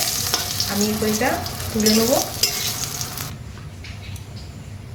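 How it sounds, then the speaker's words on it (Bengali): Eggplant slices frying in oil in a pan on low heat, a steady close sizzle with stirring clatter, a voice speaking briefly over it before the sizzle quiets. "অল্প আঁচে আমি বেগুনগুলো ভেজে নেব।"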